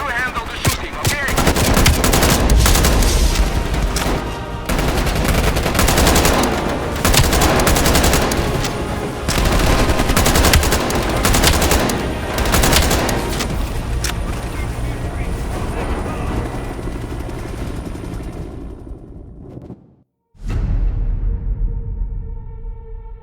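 Dense, sustained automatic gunfire and explosions from Call of Duty: Black Ops Cold War fill the scene loudly for about twenty seconds, with voices talking over the battle before everything cuts to near silence and then resumes.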